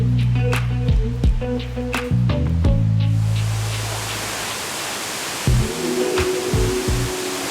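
Tad Sadi waterfall in Laos, a broad, steady rush of falling water that takes over after a few seconds of tonal, musical sounds and then roars on loudly and evenly, with no talking.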